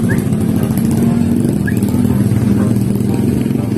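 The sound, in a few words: motorcycle engine running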